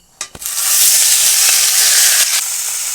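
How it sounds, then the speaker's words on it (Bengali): Broccoli dropped into hot oil left from frying fish: a couple of sharp clatters, then a loud, steady hissing sizzle that fills the pan and holds to the end. "এবার ওই মাছ ভাজা তেলের মধ্যেই ব্রকুলিগুলো ভেজে নেব"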